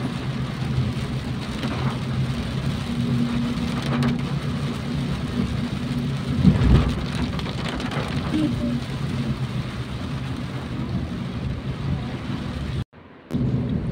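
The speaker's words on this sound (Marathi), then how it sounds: "खरंच नॉनस्टॉप पाऊस चालू झाला आहे मित्र." Heavy rain pours in a steady, dense roar throughout, with a low rumble swelling briefly midway and a short dropout near the end.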